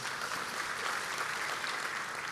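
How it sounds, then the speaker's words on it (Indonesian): A church congregation applauds during a sermon, steady, dense clapping heard at a soft, somewhat distant level for a few seconds. "Berikan tepuk tangan, yes."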